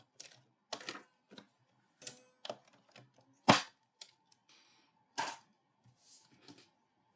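Paper being trimmed to size with a cutter while making cards with dies: a series of sharp, separate snips and clicks at irregular intervals, close by, with no talking.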